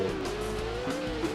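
Race car engine from a PS2/Xbox-era racing video game holds a steady droning whine with a slight pitch rise, and tire squeal mixed in, continuous and loud throughout a short burst with no talking.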